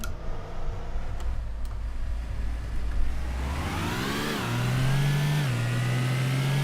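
A car engine in a racing video game drones steadily, then revs up with rising and falling pitch, shifting into a higher steady hum, continuous and fairly close.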